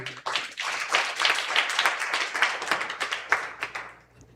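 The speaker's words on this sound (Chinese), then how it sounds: "我们拍手来欢迎" A church congregation at a prayer meeting claps together in welcome, a dense roomful of hands sustained for about four seconds before tapering off, with no voices over it.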